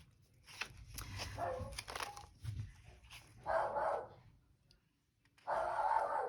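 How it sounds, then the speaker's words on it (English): A dog barks in several short bursts, fairly close, with quiet gaps between, ending in a louder run of barks. "that's my dog barking."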